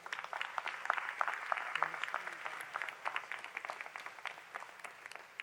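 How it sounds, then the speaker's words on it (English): Convention audience at the NAACP annual closing plenary session applauding, a steady patter of many hands clapping in a large hall that gradually thins out. "Please give a round of applause for our leader of the Convention Planning Committee, Michael Turner."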